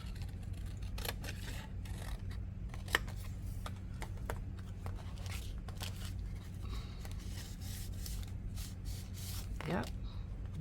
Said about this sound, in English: Let's go with cutting this off.